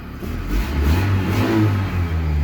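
Car engine running on petrol rather than CNG gas revs up, a deep mid-range roar that swells and climbs before easing slightly, heard up close with no talk.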